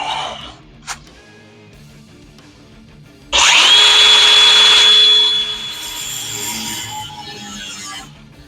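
A power tool cuts through a clamped metal exhaust part while swapping a single exhaust to a dual setup, starting with a sudden loud, steady whine that holds for a few seconds and then eases to a lower running drone.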